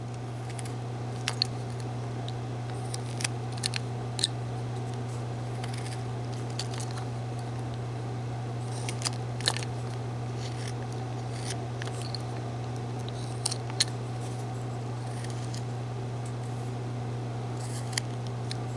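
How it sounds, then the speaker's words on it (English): A knife cuts into a block of wood while whittling a simple figure, giving faint, sparse scraping clicks and nicks over a steady low hum. "so we're going to make a cut right there."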